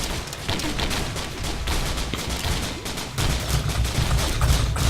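Missile barrage in the video game Risk of Rain, a loud, dense stream of rapid explosive shots and crackling gunfire that thickens toward the end.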